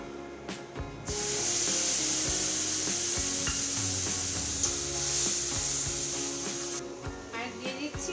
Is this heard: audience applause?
no